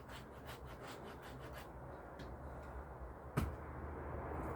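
Rough scraping of a Cold Steel SR1 folding knife's 90-degree spine along light wood, a run of repeated rasping strokes followed by a sharper scrape, close and steady.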